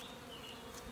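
A continuous hum of buzzing honey bees from a new package being installed in a hive, faint and steady, with no talking.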